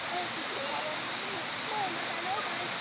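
A small waterfall rushes in a steady, full hiss close by, with faint voices or calls drifting over the constant flow.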